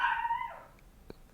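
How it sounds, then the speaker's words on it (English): A dog indoors gives a single drawn-out howling bark that slides downward and fades, heard faintly in a quiet room. "sorry about the dog, I don't know if you guys can hear him."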